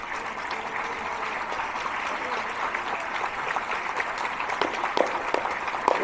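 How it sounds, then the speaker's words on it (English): Audience at a bird-breeding book launch applauding together, a steady wash of clapping that swells slightly toward the end, moderately loud and sustained throughout. "would you please stand and we'll collectively applaud your generous efforts"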